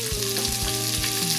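Bacon fries over low heat in a pan, a dense continuous sizzle and crackle with a few soft stirring thumps, close and steady with no voices.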